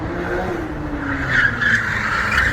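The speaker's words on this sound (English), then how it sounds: "he drifts through this intersection a lot with a lot of different cars." Car drifting through an intersection, tires skidding and squealing in a long continuous screech with engine noise underneath, loud and steady throughout.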